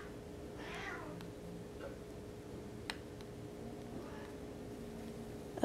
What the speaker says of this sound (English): And kitties are fighting again.